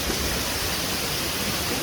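Waterfall at Shirlagadde falls, a steady broadband rush of falling water that stays even and continuous throughout, with a brief louder burst at the very end.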